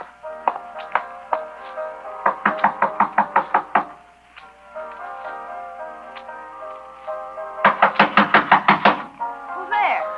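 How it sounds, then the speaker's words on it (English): Someone knocks on a bedroom door in a radio drama: sharp wooden raps in quick bursts of several knocks, pausing, then knocking again more insistently, close and clear against a faint musical background. "Then I walked up to her room and knocked on the door."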